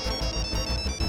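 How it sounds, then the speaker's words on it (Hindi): A phone ringtone plays alone in a quiet room, a steady electronic melody with a repeating pulsing rhythm, close and clear. "हमको लग रहा है फोन की घंटी बजी।"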